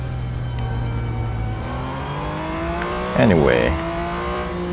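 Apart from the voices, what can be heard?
Porsche 911 GT2 RS race car engine from video game Real Racing 3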